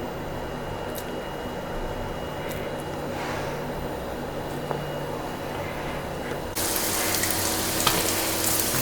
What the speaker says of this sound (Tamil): இதில் வந்துங்க பன்னீர் வந்து பொரிச்சிடலாம்.